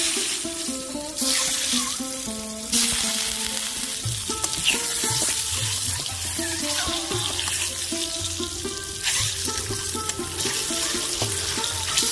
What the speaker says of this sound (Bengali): কড়াইতে আরেকটু হলুদ দিয়ে দিলাম, দিয়ে এবার আমি সিদ্ধ করা ডিমগুলো ভেজে নেব।